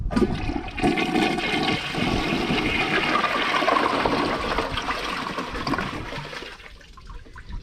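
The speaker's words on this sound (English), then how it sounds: "now let's see how it does on 15 bottle caps" A 2006 Mansfield Alto toilet flushes a load of 15 bottle caps: one loud, close rush of water that swirls for several seconds, then tapers into a softer refill trickle.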